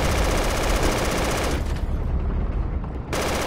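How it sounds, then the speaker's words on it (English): Rapid, loud automatic gunfire in the Project Reality military shooter, dense bursts of shots in close succession with a harsh, continuous crackle that eases briefly before resuming. "I'm gonna shoot at them"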